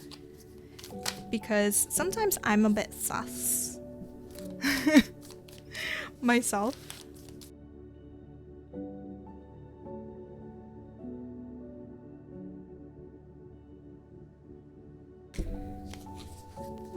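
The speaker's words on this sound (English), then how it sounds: "for those of you who like seeing the cards being shuffled" Tarot cards shuffled by hand in several quick, crisp bursts of riffling and tapping, then a long quiet stretch with a brief rustle near the end; a voice speaks briefly.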